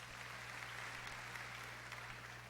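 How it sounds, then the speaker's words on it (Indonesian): Church congregation applauding at a Sunday service, a faint, dense, continuous wash of clapping with no individual claps standing out. "Beri tepuk tangan yang meriah buat Tuhan."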